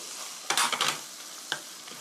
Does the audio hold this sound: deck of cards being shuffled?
no